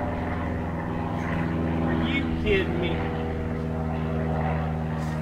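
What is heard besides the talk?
airplane flying overhead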